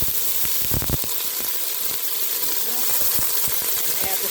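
Onions hitting a hot oiled pan for a clam and scallop chowder, a steady hissing sizzle with a few close clacks and clinks of handling over it.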